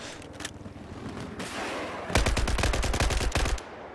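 Scar H rifle fire in a competitive first-person shooter match: a loud, rapid burst of gunshots with a steady rhythm after a few scattered earlier shots, dense and close.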